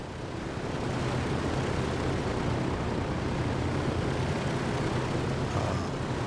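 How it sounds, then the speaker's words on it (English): Steady, dense drone of Douglas DC-3 propeller engines idling while parked in Microsoft Flight Simulator 2024, constant and loud throughout with no talking. "I'm going to leave the engines running"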